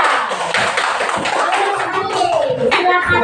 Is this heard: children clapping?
yes